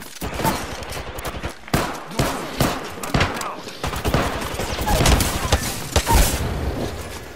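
Gunfire in the video game Apex Legends, a string of sharp, loud shots and short bursts firing at irregular intervals, close and prominent throughout, with a voice now and then.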